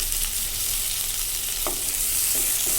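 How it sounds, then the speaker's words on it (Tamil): Chicken curry with tomatoes and curry leaves frying in a village-style pot, a steady loud sizzle throughout with a few soft scrapes of stirring. "இதுவும் நல்லா ஃப்ரை ஆகி வரட்டும். இது கூடவே கொஞ்சமாக கருவேப்பிலை"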